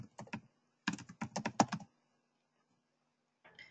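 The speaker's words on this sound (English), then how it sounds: "while you're typing that in" Typing on a computer keyboard comes through as two quick bursts of close, crisp key clicks in a quiet room, followed by a pause and a few more taps.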